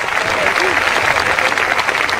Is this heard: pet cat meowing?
no